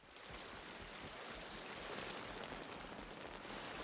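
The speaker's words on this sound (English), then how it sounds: "Oh, sure enough, you can go through the waterfall." A waterfall in the game Atomfall, heard as a steady, dense rush of falling water, faint but continuous and unbroken.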